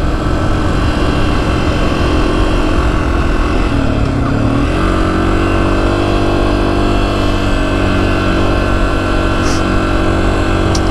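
A Honda CRF250F dirt bike engine drones steadily in fourth gear on a hot desert ride, loud and constant with wind roar, pitch dipping briefly midway before settling again.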